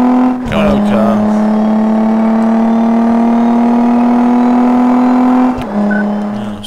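A worn old car in Car Mechanic Simulator, its engine cover removed for a quarter-mile drag race, holds a loud, steady high rev with a strong droning pitch, rising briefly at launch and dipping near the end.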